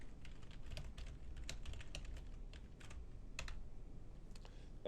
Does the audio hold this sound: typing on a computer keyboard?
yes